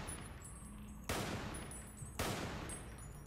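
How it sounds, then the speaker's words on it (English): Gunfire in Fallout New Vegas, heard as two sharp, loud bursts about a second apart over a low game ambience, with no talking. "some bad shooting on my part, but we made up for it"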